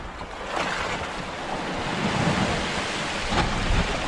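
Steady wind roars across open water on a fishing boat, with a low rumbling wash and gusty buffeting against the microphone; no voices.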